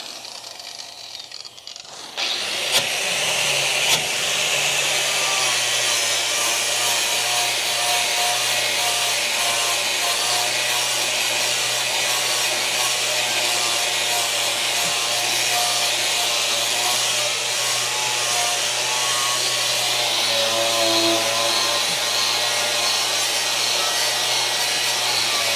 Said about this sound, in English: The grinder sounds like a lightsaber.